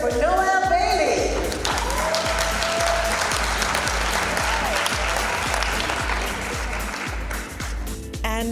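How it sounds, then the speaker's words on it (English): A crowd at a tourism awards ceremony gives loud, sustained applause as an awardee comes forward, with voices and a steady low beat running underneath. "Can we give her a round of applause as she comes forward, please?"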